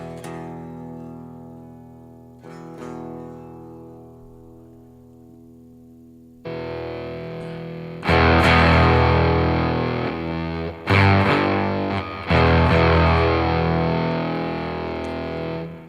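An electric guitar runs through a Headrush Core on an Orange EL84 amp model. Sustained distorted chords ring out, first softer and decaying, then louder crunchy strums. The chords are separated by short breaks and stops.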